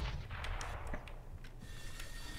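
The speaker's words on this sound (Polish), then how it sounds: "I ty tylko z jednej armaty strzelasz" Cannon fire in CS:GO sounds as a few quick, sharp booms and cracks in a short burst, fairly quiet overall and not under any speech.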